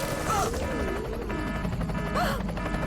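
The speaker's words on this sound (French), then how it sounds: "Oh non! Un double crash." A double crash in a French-language children's cartoon, with Walter's hot-air balloon going down in strong wind: two loud smash impacts, one near the start and another about two seconds later, set over busy background music.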